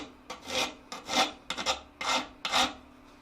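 A metal file rasps along a butcher tool for chasing in five loud, close strokes, each a rough scraping push with brief pauses between.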